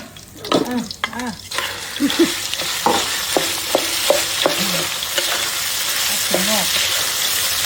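Pork and bean sprouts stir-frying in a pan, with steady sizzling and repeated scraping stirs of the spatula running throughout; a voice talks faintly now and then.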